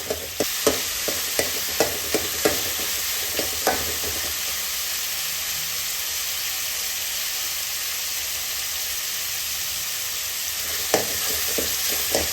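Onions and tomatoes fry in a pan for a radish kara kuzhambu, a steady loud sizzle under a run of scraping stirs early on and again near the end, with no voices.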